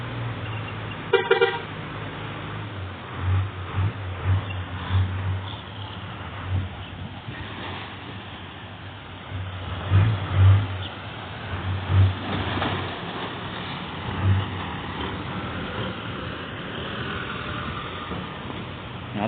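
A tractor engine runs near a house during soil-dumping work, a low, steady droning rumble with a faint tonal hum and intermittent brief louder pulses, moderately distant, with no voices.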